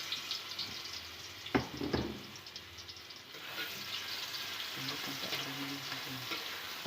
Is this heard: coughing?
no